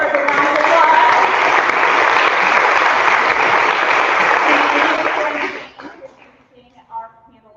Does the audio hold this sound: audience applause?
yes